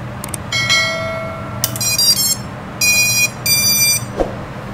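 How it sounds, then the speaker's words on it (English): A series of electronic beep tones from a drone's T-Motor Velox 55A ESC powering up, in short bursts and rising tonal sequences, loud and close, with a low hum underneath. "it's time to power it up and you will hear the beep"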